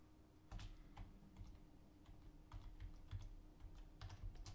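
Quiet clicks of fingers typing text on a computer keyboard come in irregular bursts and short pauses, close by and soft, with no talking.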